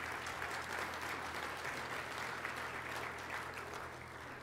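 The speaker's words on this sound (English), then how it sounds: "let's give a big round of applause for all of our sponsors" An audience applauds sponsors at an evening school event, a steady dense wash of clapping that holds fairly even throughout, moderately distant with no voices on top.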